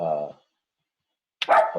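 A dog barks twice nearby in a room, one short harmonic bark followed after a pause by a louder, rougher bark, with no other sounds in between.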